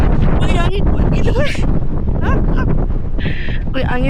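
Strong gusts at the Menara Gading lookout buffet the microphone with a loud, continuous low roar throughout, while voices talk over the wind.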